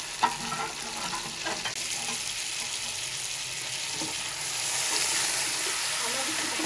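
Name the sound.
frying boiled mutton with spices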